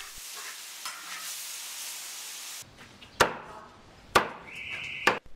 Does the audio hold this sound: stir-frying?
yes